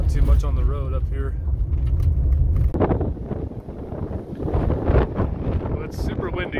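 Loud, blustery wind buffeting the microphone with deep rumbling gusts above Currant Creek Reservoir near Heber City, Utah, while a person talks through it.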